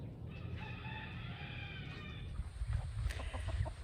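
A rooster crows amid steady clucking from a flock of meat chickens on a small farm, with low farmyard rumble throughout.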